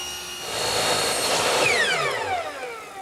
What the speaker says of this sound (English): Here I have a cove bit installed. I'll run one edge and then rip a piece on the table saw.